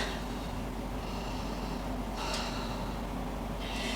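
Slow breaths drawn during a slow-flow yoga pose, soft airy exhalations rising twice over a steady low room hum, close and quiet with no talking.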